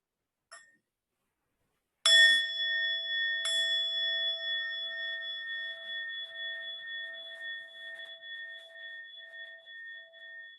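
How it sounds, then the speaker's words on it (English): A meditation bell marks the end of a meditation session: a faint tap, then two clear strikes about a second apart, each leaving a long, pure ringing tone that fades slowly over several seconds in a quiet room. "with the sound of the bell, we'll bring this meditation to an end."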